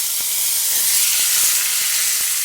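Tomatoes dropped into a hot pan give a loud, steady hiss and sizzle of frying with faint crackles, close up, with no talking.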